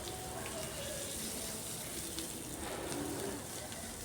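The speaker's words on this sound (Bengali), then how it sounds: "আলুগুলা ভাজা হয়ে গেছে, এগুলাকে আবার একবার নাড়িয়ে নিচ্ছি।" Potatoes fry in a pan of spices for aloo dum as they are stirred, giving a faint, steady sizzle with soft scraping that continues throughout.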